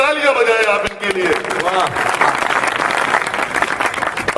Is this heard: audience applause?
yes